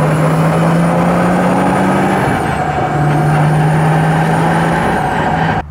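Nissan Gloria Y32 with a welded differential and a caved-in rear quarter panel, driving along with a steady loud engine and road drone and a low hum that breaks off and resumes, no clunks standing out clearly.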